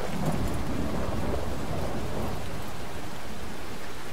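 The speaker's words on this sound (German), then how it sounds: "Man hört schlecht durch den Regen." Rain in the video game Fallout 4: a steady, dense wash of downpour hiss with a low rumbling undertone, like distant thunder, filling the whole stretch at an even level with no talking.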